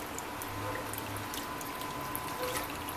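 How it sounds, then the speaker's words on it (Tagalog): Tilapia being rinsed in salted water during tuyo preparation, a continuous splashing and trickling with small drips, close and steady, no talking. "Puhugasan nyo lang sa tubig na may alat."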